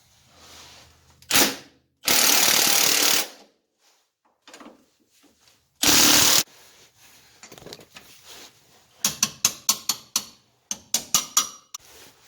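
A wrench works the four bolts beneath the rear leaf spring of an MGB Roadster. Loud whirring bursts from a power tool come first, then a close run of quick ratchet clicks, with no talking.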